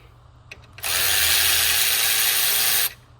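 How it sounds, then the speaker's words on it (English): An electric ratchet spins out alternator bolts on an OBS Ford 7.3 Powerstroke, a single loud, steady whirring burst of about two seconds, close by, with a few faint clicks just before it. "Pop an electric ratchet on, get those pulled out."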